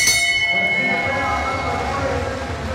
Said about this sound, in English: So the bell goes